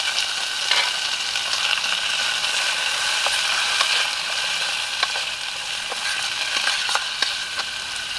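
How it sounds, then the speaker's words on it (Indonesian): Chili stir-fried with shallots and garlic while camping sizzles in a steady, close hiss, with occasional scraping clicks of stirring throughout. "Sekarang kita masukin cabai. Kita tumis cabai duluan."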